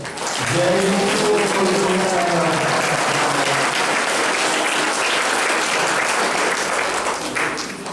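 A congregation at a confirmation Mass applauds loudly and continuously for several seconds, with a few voices briefly audible at the start.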